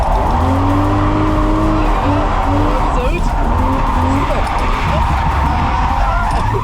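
Drift car pushed hard through first and second gear, engine howling loud and near as the tyres squeal in long smeared screeches, with a voice talking over the roar.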